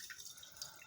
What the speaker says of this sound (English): So this can be hot water or cold water. I'm just going to pour this right in here.